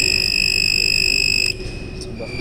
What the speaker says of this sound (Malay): Selepas 5 saat buzzer dan fan akan on.